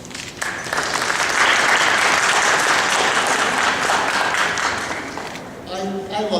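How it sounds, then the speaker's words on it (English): An audience at a Providence mayoral candidate debate bursts into loud, sustained applause that swells quickly, holds for several seconds, then tapers off. "So let's give them a round of applause."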